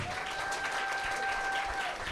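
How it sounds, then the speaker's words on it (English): Studio audience applause during a radio playback session, a steady, moderately loud patter of clapping with a faint tonal hum beneath it. "Y'all clap for that,"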